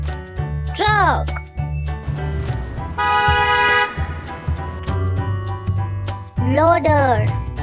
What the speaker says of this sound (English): Truck.